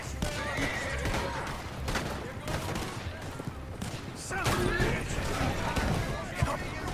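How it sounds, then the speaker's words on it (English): Horses whinny and neigh in Red Dead Redemption 2 amid a chaotic scene with bursts of gunfire and hoofbeats, all loud and busy, under excited shouting from a player. "The horses!"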